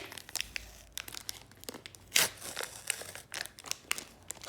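Paper wrapping sealed with heavy tape is crinkled and torn open while unwrapping a handmade paper surprise package, giving close, irregular rustling bursts with one sharper rip partway through.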